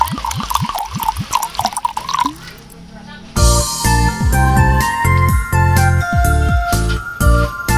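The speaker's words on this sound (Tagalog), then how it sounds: "i-add na natin itong ating gata." Coconut milk poured into a squash halaya mixture in a pan, giving a close, gurgling liquid pour with light clinks and drips that swells into a louder, steady stream.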